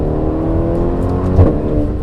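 A Ferrari Portofino's 3.9-litre twin-turbo V8, paired with a 7-speed twin-clutch automatic, revs hard under acceleration, a steady loud engine roar that swells briefly near the end, with no talk over it.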